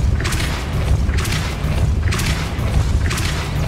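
Depulso repelling spells cast in Hogwarts Legacy, four deep booming force blasts at a regular pace, each with a whooshing burst on top, loud and close with a low rumble between them.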